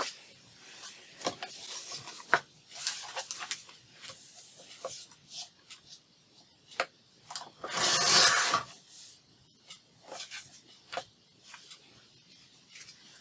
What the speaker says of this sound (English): we're going to cut the flap off of this one